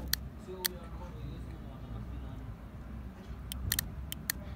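A VW Polo 6N gearbox solenoid being tested through a cable on one of its pins, giving a few sharp, isolated clicks followed by a quick cluster of clicks over a low background hum.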